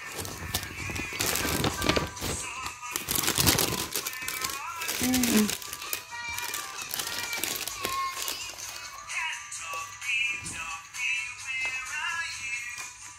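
Crinkly plastic wrapping being pulled open around a Starbucks muffin, with bursts of crackling and tearing at close range, mixed with a toddler and an adult talking throughout.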